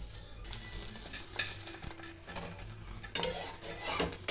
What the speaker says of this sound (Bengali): এদিকে আর একটা ডিম ভাজা চলছে,